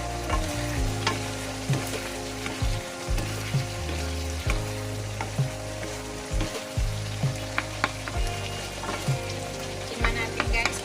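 Thinly sliced carrots and broccoli stems sizzle in a pan while being stirred, with steady frying and repeated scraping knocks of a utensil against the pan.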